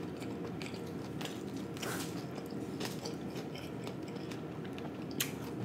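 Close chewing of whole fried snapper fish, soft crunchy bites and wet mastication repeating irregularly at low volume, with no talk.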